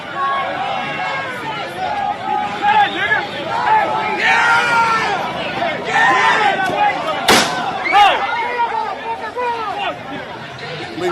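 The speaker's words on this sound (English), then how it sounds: "That was a gunshot." Single sharp gunshot cracks out over a noisy outdoor crowd at a Charlottesville rally, a brief loud bang amid continuous shouting and chatter.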